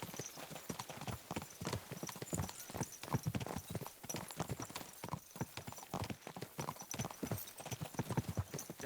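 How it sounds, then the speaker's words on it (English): Horse hooves clip-clopping in a steady, brisk rhythm from the game Kingdom Come: Deliverance II, close and continuous for the whole stretch, with no talk over it. "What a cheap old nag."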